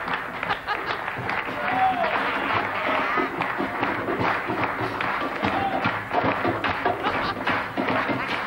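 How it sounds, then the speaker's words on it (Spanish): A large studio audience claps steadily and loudly for a welcomed murga troupe on a variety show, a dense sustained wash of applause with no talk over it. "Vamos a recibirla con un fuerte aplauso"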